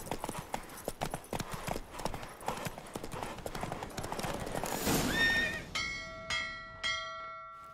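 Roach, Geralt's horse in The Witcher 3: Wild Hunt, gallops through a race with rapid, loud hoofbeats, a whinny near the end, and ringing bell-like tones as the run finishes.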